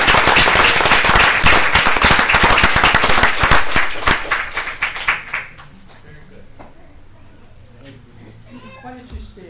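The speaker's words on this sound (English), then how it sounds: "So let's all give them all another round of applause." Dense audience applause at an event fills the first several seconds loud and close, then thins into a few scattered claps and fades into quiet room murmur with talking.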